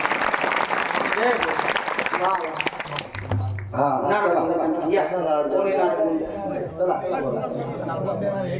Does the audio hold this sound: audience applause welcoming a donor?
yes